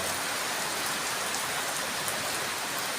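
Steady rain pours down outdoors where pigeons are being flown, a dense, even hiss of drops on surfaces that stays constant and loud throughout, with no voices.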